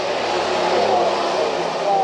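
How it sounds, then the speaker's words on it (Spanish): A supermoto motorcycle passes nearby with a steady mid-pitched engine drone that swells slightly as it goes by, over a constant rush of wind. "Y aquí viene Timo en su supermoto"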